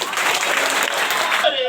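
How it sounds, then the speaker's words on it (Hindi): A church congregation applauds together in a dense, steady wash of clapping that fills the room, with voices mixed into the crowd noise throughout. "ताली बजाएं, बोलो।"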